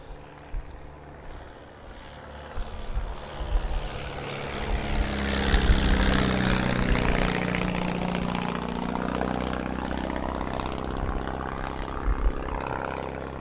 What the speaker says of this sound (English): I think this is how an airplane should sound